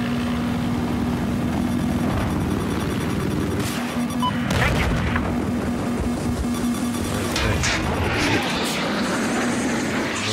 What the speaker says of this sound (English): Oh, there's a helicopter